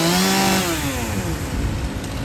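Chainsaw cutting back storm-threatened roadside trees near power lines after heavy rain, its engine revving loud and close, then settling into a rough, steady drone.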